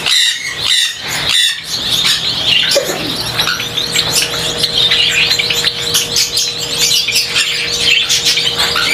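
Gouldian finches in an indoor breeding room, many birds chirping, squeaking and twittering at once in a dense, continuous chorus, loud and close, with occasional wing flutters and no talking.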